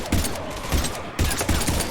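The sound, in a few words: gunfire in Mass Effect 3 video game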